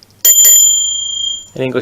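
An English-made figure bell decorated with animals around the outside, struck once with a bright sustained ring that decays slowly, followed by a person starting to talk.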